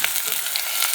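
Onions frying in hot oil in a pan, a brief, loud, dense crackling sizzle heard close up with no talk.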